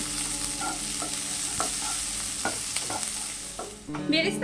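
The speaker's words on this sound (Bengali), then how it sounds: "চারটি পেঁয়াজ কুচিয়ে নিয়েছি এগুলোকে বেরেস্তা তৈরি করে নেব" Four chopped onions frying in oil for beresta, in a pan where fish was fried before: a dense, steady sizzle, close by, with repeated spatula scrapes and clinks, and a short louder clatter at the end.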